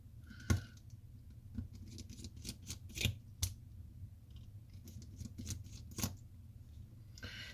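A micro screwdriver works at the four back screws of a Casio A158 watch, producing faint, scattered little clicks and metallic ticks at an irregular pace, very close and quiet with a soft hiss behind.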